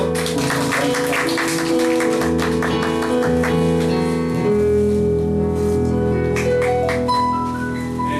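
A church congregation claps after a family prayer, the clapping blending with sustained keyboard or organ chords that carry on underneath at steady loudness.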